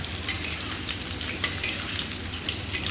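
Potatoes fry in a pan with a steady, close sizzle, and a few sharp clinks of stirring cut through at intervals. No one speaks.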